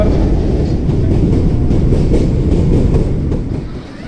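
Mehr Express passenger train rumbling past up close on the line between Darya Khan and Taxila, a loud steady roar of wheels and carriages that eases off slightly near the end.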